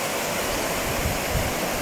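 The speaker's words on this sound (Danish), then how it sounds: "hvor de to elve løber sammen" Two rivers meet at a fishing spot, their joined water rushing in a steady, loud broadband roar close by, with no voices.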